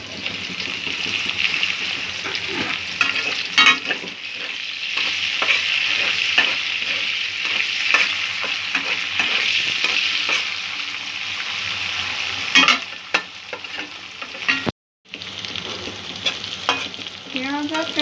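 Onion and capsicum sizzle steadily in a hot pan while being stirred, with scraping strokes and occasional louder clatters of the utensil, close up and continuous apart from a brief gap.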